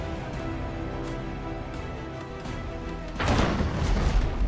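A grapeshot cannon blast fires in the Abandon Ship naval combat game, a sudden loud burst arriving near the end over a steady background of game music and ambience.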